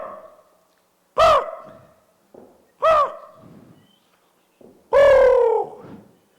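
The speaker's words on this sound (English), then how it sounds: "So Raven called out," A raven call rings out three times during a Tlingit storytelling performance at Celebration 2002: loud, hoarse, descending calls, each separated by a pause, close and isolated against a quiet background.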